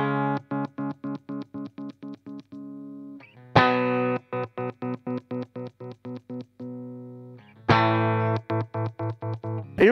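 Electric guitar with a single working pickup and no tone knob, played through distortion effects: rhythmic bursts of strummed, heavily distorted chords in quick even pulses, with two louder sustained chords breaking the pattern, close and alone.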